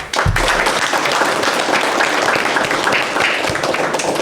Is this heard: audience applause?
yes